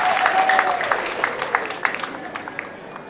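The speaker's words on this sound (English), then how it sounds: "and you clap for her also." Applause for an MC at a live school debate event, a crowd clapping that thins out into scattered, distinct individual claps as it winds down.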